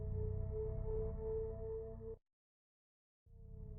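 The Snow Angel boss battle music from the video game Omori plays alone as soft sustained tonal lines over a low bed, cutting out abruptly to a second of silence before resuming.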